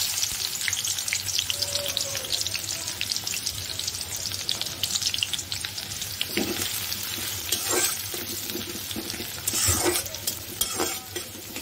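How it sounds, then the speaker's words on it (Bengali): Chopped onions frying in soybean oil in a wok give a steady, close sizzle, with occasional stirring scrapes and clatters breaking through, and no talking. "এই সয়াবিন তেলের সাথে পেঁয়াজের কুচিগুলো আমি হালকা বাদামি করে ভেজে নিয়ে"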